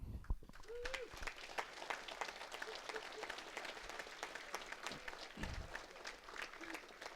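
A crowd at a police and fire awards ceremony gives a long round of steady applause, distant and fairly quiet, with a brief voice or two underneath.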